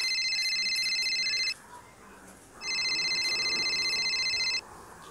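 A telephone rings in two clear electronic bursts with a pause between, each burst a sustained warbling tone, close and fairly loud over a quiet background.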